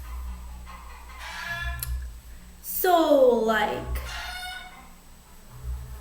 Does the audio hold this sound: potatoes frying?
no